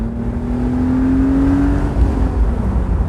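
BMW Z3 3.0i engine under full throttle, a loud continuous drone with a rising tone as the revs climb, heard from inside the car.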